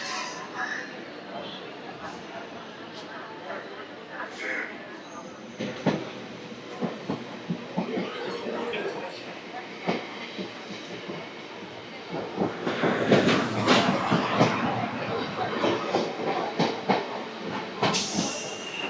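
A Chennai local train rolls along its tracks, a steady rumble and hiss with scattered clacks that swell louder partway through, while a voice talks over it.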